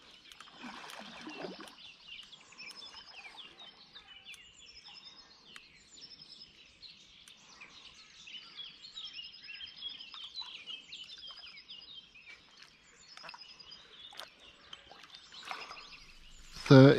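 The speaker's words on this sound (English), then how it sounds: "Just the birds singing" Birds sing on a fine morning at a fishing spot, with repeated short, faint chirps and tweets over a quiet background, followed by a brief loud knock at the very end.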